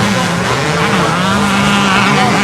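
Vintage motocross motorcycles racing at a championship, a loud continuous engine roar with rising and falling revs, close and dense, with no talk.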